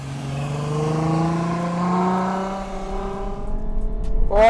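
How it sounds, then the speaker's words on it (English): Ferrari Purosangue V12 engine revving up, a loud rising howl with a clear climbing pitch, easing off before another sharp rev at the end. "Oh, listen to that V12."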